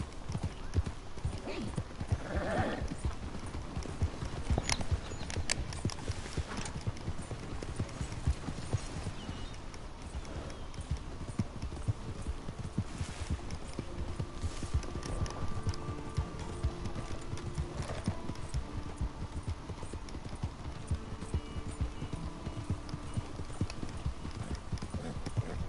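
Horse hooves clip-clop steadily at a walk in the video game Red Dead Redemption 2, a continuous rhythmic patter under ambient game sound, with someone talking over it.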